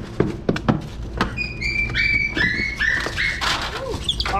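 Eddie, a house dog hunting street rats, gives a few sharp, close barks and yips at the start, followed by high whining squeals and whimpers over scuffling.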